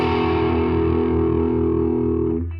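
Distorted electric guitar plays a riff, a sustained, heavily overdriven chordal tone ringing steadily and loud before fading at the end, with no talking.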